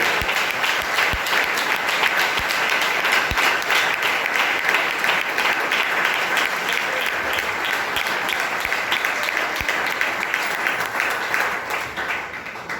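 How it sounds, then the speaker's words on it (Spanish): A large church congregation applauds loudly and steadily for several seconds, dense clapping filling the room, with a few sharper claps standing out and no voices. "Denle un aplauso al Rey de Gloria"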